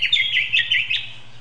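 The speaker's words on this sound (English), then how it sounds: "Tiny little bird sound." A tiny bird sound effect: a quick cluster of high, thin chirps and tweets lasting about a second, crisp and close, then fading to quiet.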